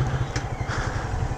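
Motorcycle engine during wheelie practice, a close, steady pulsing mid-range throb like a fast idle or light throttle, heard alone without talk.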